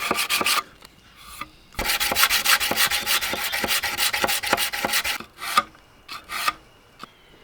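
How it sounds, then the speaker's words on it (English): An 80-grit sandpaper wrapped around a block rubs back and forth along a handmade knife, steady rasping strokes close up, with a brief pause before the scraping resumes in short bursts. "I'll start with 80 grit sandpaper wrapped around a block, then move up to 180 grit"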